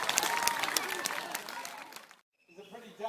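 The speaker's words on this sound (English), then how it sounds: "Give him a big round of applause." A zoo show audience in Australia breaks into loud, dense applause for a bird, sustained for about two seconds before cutting off, followed by a brief quieter stretch with faint sound.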